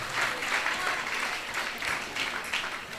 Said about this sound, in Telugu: ఆ దేవాది దేవునికి మనందరము చప్పట్లు కొడుతూ